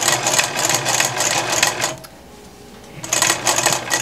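A sewing machine stitches a baby bib, running in steady rapid bursts for about two seconds, pausing for a second, then resuming at close range with no talking.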